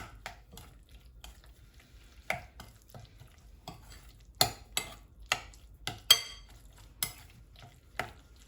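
A spoon stirs and mixes spiced aubergine with black pepper and turmeric in a pan, giving sharp scraping clacks at irregular intervals over a faint sizzle, close and alone without talk.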